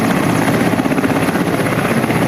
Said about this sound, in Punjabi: ਦਾਣਾ ਮੰਡੀ ਵਿੱਚ ਇੱਕ ਆਰਮੀ ਵਾਲਿਆਂ ਦਾ ਹੈਲੀਕਾਪਟਰ ਉਤਰਿਆ